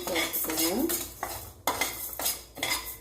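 Moong dal being dry-roasted in a pan, a metal spoon scraping and clinking against the pan in several quick bursts of stirring with brief pauses between them.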